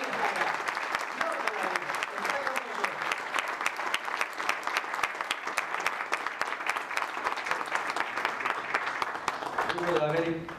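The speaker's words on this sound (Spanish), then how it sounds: "le demos un aplauso afectuoso" A classroom audience gives a long, warm round of applause, a dense and even patter of many hands that holds for several seconds, with a few voices rising near the end.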